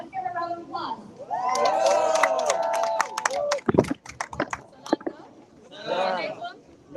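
A protest crowd cheers and whoops, then breaks into a short, scattered burst of clapping, with voices calling out over it before the noise fades and rises again briefly.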